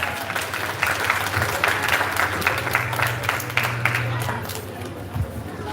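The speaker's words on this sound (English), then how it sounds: "Please give them a round of applause." Audience applause for a basic school graduating class at a graduation ceremony, a dense sustained clapping crowd throughout with some murmuring voices underneath.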